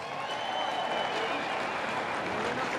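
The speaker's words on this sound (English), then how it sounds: "Let's give them a round of applause." Crowd applause at the Sunday weigh-in of the 2018 Bassmaster Classic bass fishing tournament, a steady, dense wash of clapping from a large audience that fills the whole stretch without pause.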